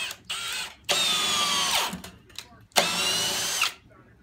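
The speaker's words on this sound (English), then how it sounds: "I love this drill." A Milwaukee 2704 cordless drill drives lag screws into wood in two loud, sustained whirring bursts with a winding-down pitch and a brief pause between them, heard up close.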